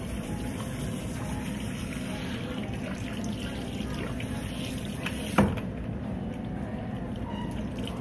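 Steady broadband wash of tap water running into a sink while long hair is rinsed, constant and fairly close, with one brief knock partway through and no talking.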